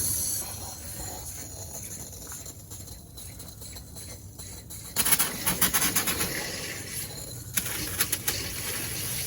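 Air hissing and sputtering out of freshly filled plumbing water lines, a steady broadband rush that turns into bursts of spitting and popping partway through, close and moderately loud.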